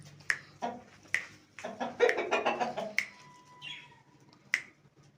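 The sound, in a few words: chickens clucking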